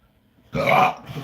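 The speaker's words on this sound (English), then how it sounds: "Man, I'm fucking burping like fucking crazy tonight." A man lets out a single loud, close burp lasting about half a second, followed by a brief softer breath, with no talking.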